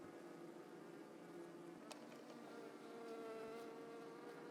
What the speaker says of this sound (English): All the bees that are flying around the room